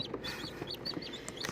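Newly hatched chicks in an incubator peep and cheep in quick, high, scattered chirps, close by and fairly soft, with no voices.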